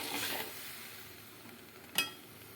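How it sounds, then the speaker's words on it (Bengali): A pot of soybean and potato curry stirred after water is added, giving a soft wet scrape and faint sizzle near the start and one sharp clink of the spoon on the rim, all quiet and without talk. "এবার ভালো করে নেড়ে ঢাকা দিয়ে দেবো"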